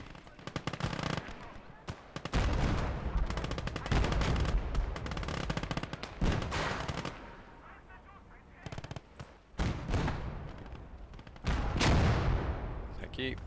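Sustained machine-gun and rifle fire with heavy booms in a Call to Arms: Gates of Hell battle, loud bursts repeating across the whole stretch with brief lulls, a voice talking over the combat.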